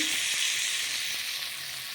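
Tomato and green chilli chutney simmering in a pan on a low flame gives a steady, soft sizzle, with no voices over it.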